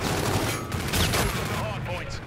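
Bursts of rapid gunfire crackle in a Call of Duty hardpoint match, several quick overlapping shots packed into a couple of seconds, loud and close against dense game noise.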